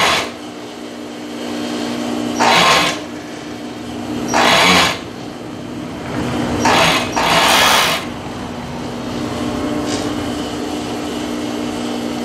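Domestic sewing machine stitching the sleeve of a knit blouse, short bursts of fast needle whirring, about four separate runs a second or so each, close and loud over a steady motor hum.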